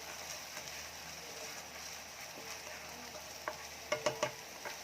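Garlic and onion sauté quietly in a pan, a soft continuous sizzle with a few sharp scraping clicks of a utensil stirring near the end.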